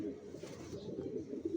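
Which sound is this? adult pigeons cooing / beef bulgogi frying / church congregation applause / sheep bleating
adult pigeons cooing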